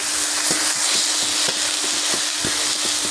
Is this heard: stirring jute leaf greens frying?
yes